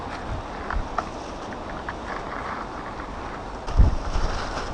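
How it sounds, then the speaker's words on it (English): Wind gusting through the trees of a small wooded patch in Summerfield Park, Birmingham, a steady broad rush with a louder swell near the end. "Okay, it is quite windy today."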